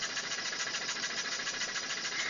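A homemade steam engine with a water tube boiler, a small pump and a 12-volt generator turning at about 150 RPM runs steadily. It makes a dense, even mechanical hiss and chuff, close and continuous, with no pauses and no voices.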